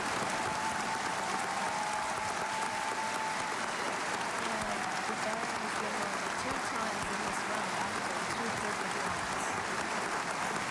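A large record crowd applauds steadily at the Scripps National Spelling Bee 2025 finals, a dense, even wash of clapping that holds for about ten seconds.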